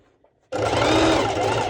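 Sewing machine stitching steadily through three layers of fabric for a sporty color-block top, a loud continuous motor whir with rapid needle chatter that starts abruptly after a brief quiet moment.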